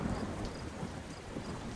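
Heavy rain pours steadily through a thunderstorm, a dense hiss with low rumbling underneath, continuous and fairly distant throughout.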